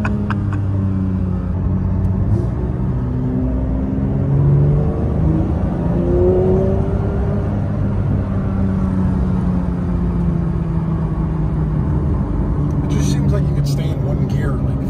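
A Porsche 911 992 GT3 engine holds a high-RPM whir and rumble from inside the car, steady and loud for the whole stretch, with occupants talking over it.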